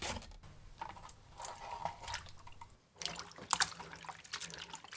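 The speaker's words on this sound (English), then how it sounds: "Rinse the thinly sliced potatoes under running water until the starch is washed away." Thinly sliced potatoes rinsed under a running kitchen tap, with a steady splashing of water and scattered drips and wet clatter of slices, close and fairly quiet.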